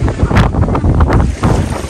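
Strong wind at a beach roars across the microphone in loud, continuous buffeting gusts, with a surf-like wash underneath and no voices.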